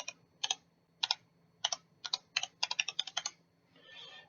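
Someone types an email address on a computer keyboard, with crisp key clicks coming in short bursts and small clusters, ending in a softer rustle; no talking.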